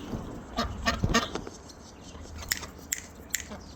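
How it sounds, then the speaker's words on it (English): Backyard chickens run about while giving short, scattered clucks and squawks, several calls bunched early, then a few sharp ones later, close and fairly loud. "The running of the chickens."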